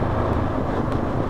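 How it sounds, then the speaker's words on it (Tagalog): Wind buffets a microphone in a steady low rumble on a motorbike ride through the Philippine countryside, continuous and fairly loud with no talk. "Hangin."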